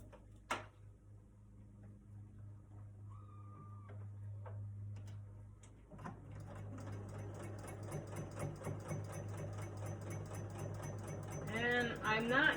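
Home sewing machine stitching a coffee cup change purse, the needle left of center, with a rapid even run of stitches starting partway through after quieter handling noises, and a person talking faintly.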